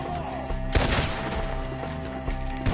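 Gunfire in the video game Red Dead Redemption 2: a sharp, loud shot booms over game music and ambience, followed by a couple of fainter shots, with no speech.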